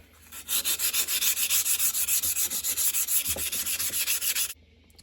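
Sandpaper rubs back and forth over a rusty Stanley No 5 hand plane, a fast, even rhythm of rasping strokes, about four per second, loud and close, then it stops abruptly.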